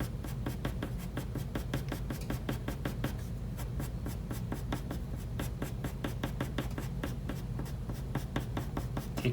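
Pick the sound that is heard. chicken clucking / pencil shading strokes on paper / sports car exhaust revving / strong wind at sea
pencil shading strokes on paper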